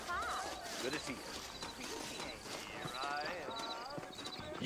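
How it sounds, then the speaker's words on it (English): Horses in the Red Dead Redemption video game clop along in a quick, steady hoofbeat rhythm set in New Orleans, with people talking over them and an occasional whinny. "I got the horses saddled up and ready out front."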